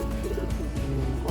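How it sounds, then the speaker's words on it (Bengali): Pigeons at a breeder's loft give a steady low cooing throughout, close and moderately loud, with faint bird chatter behind. "অসম্ভব ভালো একটা কবুতর"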